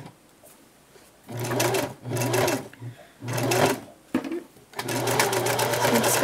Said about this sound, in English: So we're just gonna sew.